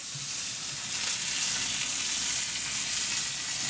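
Steak frying in a pan with seasoning that is starting to burn gives a loud, continuous hiss and crackle with no pauses, close by and without speech.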